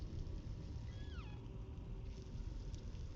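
A cat in a psychological horror video game gives a single drawn-out meow with a falling pitch, heard over a rumbling low-end game ambience.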